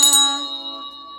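Bright notification bell ding, one clear metallic strike that rings out and slowly fades over about a second, loud and close, alone without talking.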